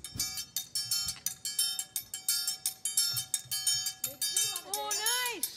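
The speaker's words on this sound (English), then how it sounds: "a Cajun-sounding triangle that Lucas is going to play" A Cajun-style triangle struck in a steady, fast ringing rhythm on a Kennedy Center stage, bright metallic pings repeating evenly and fairly faint, before a few rising squeaky tones enter at the end.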